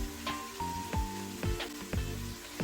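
Food sizzling and frying in a pan as a chicken and pasta dish is prepared, a steady crackling hiss with several sharper pops and spatters spaced through the short stretch, no talking.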